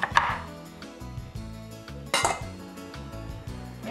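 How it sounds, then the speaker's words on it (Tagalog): A knife cuts peeled cassava into medium pieces on a board, giving sharp knocking chops with a couple of bright clinks, close and dry over a faint low background hum, no talking. "Gayatin ng katamtaman laki ang mga binalatang kamoting kahoy."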